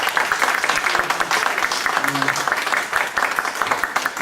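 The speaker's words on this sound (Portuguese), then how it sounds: "Uma salva de palmas para ele," Audience applause for a guest speaker at a philosophy lecture event, a steady wash of clapping from a seated crowd, fairly close and continuous.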